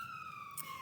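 An emergency vehicle siren passes outside, a faint steady wail drifting slowly lower in pitch behind quiet room tone.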